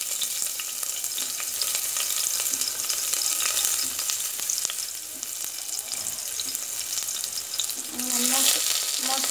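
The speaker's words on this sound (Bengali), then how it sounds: "এখন আমি এখানে পেঁয়াজ দিয়ে দিলাম" Onions frying in a little oil for white pulao, a dense continuous sizzle and crackle close up, briefly softer midway, then louder again with a faint clatter of stirring.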